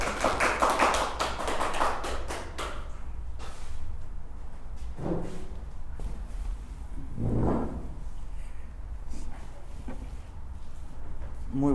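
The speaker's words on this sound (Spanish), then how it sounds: "Démosle un fuerte aplauso y bienvenidos sean los dos." A seated audience at a lecture event gives a short burst of applause that fades after a couple of seconds, followed by sparse taps and room noise.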